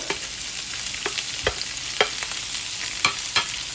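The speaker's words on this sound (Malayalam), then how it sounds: "നമ്മൾ അരിഞ്ഞു വെച്ചേക്കുന്ന വെജിറ്റബിൾസ് അതിലേക്കിടുക" Chopped vegetables stir-fried for noodles in a pan with garlic, a continuous sizzle broken by several sharp scraping clatters of stirring, close and clear, with no voices.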